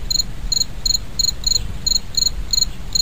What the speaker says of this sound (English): that sounds just like crickets